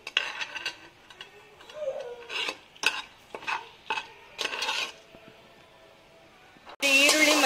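Spices, kasuri methi, fennel seeds and papaya flower frying on medium-low heat, stirred with a spoon in a pan: a series of short scraping strokes over a soft sizzle, close, ending in a louder burst of frying hiss.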